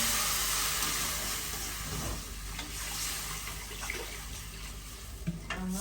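Water poured into roasted semolina in a pan for making vada, a continuous close splashing and hissing pour that eases off midway, with a few clinks near the end.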